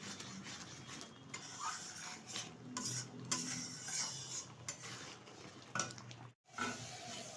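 A jackfruit seed sandesh mixture is stirred continuously in a pan, making a soft, constant scraping and rustling with small utensil knocks and one short silent gap near the end.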